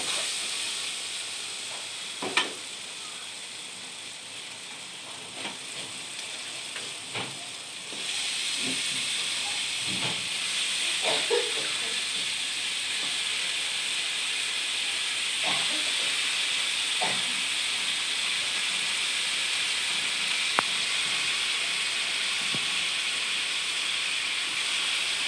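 Meat added to a pan of cooked-down spices sizzles with a constant loud hiss for the whole stretch, dotted with faint clinks and scrapes of stirring.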